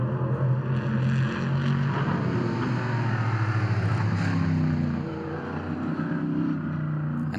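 Prototype Cup race cars at the Lausitzring in 2022 run down the front straight, a loud continuous engine drone with harmonic bands that holds steady, then eases slightly near the end.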